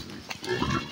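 A pig grunts in a maize field, a couple of short close snorts amid rustling, with a voice speaking alongside.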